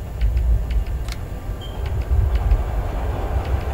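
A train rumbles through a tunnel in the game Metro: Last Light, with a loud, continuous low rolling drone and faint rhythmic metallic clicks over it, heard alone without voices.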